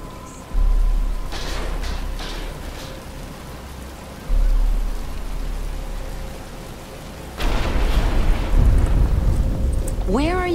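Steady rain falls in a Batman: Return to Arkham game scene, a broad continuous hiss that swells heavier in the last few seconds, with faint voices and a rising tonal effect near the end.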